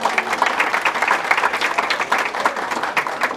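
Loud, dense audience applause at a course closing ceremony at the Arroyo Hondo shelter, a sustained burst of many hands clapping close by with no talk over it.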